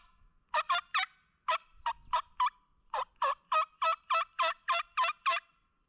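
Wild turkey gobbles ring out on Arkansas public land, a series of loud, clear rattling gobbles in quick bursts, first a few spaced calls then a long rapid run of about a dozen, carrying alone over quiet woods.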